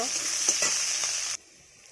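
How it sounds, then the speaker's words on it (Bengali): Chopped onions fry in hot oil with a steady, close, loud sizzle and a few stirring scrapes, cutting off abruptly partway through to near silence. "পেঁয়াজগুলো লাল লাল করে ভেজে নেব।"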